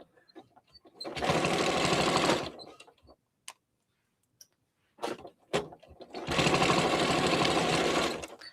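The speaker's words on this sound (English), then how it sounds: "I didn't really need to backstitch there." A home sewing machine stitching a quilted cuddle-fabric kit, running in two steady bursts of about a second each, with quiet clicks and handling noises in the pause between them.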